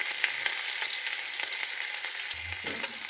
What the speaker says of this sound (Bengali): আমি এখানে দিয়ে দিচ্ছি পেঁয়াজ কুচি